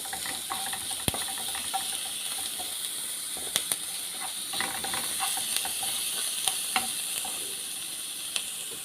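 Chicken breast pieces sautéing in a single pan, a steady background sizzle with scattered clicks and scrapes of stirring, occasional sharper taps against the pan, no talking.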